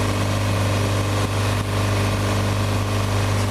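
The engine of a Xenos motorglider runs at about 3,100 RPM in flight, giving a loud, steady, unbroken drone with a strong low hum throughout.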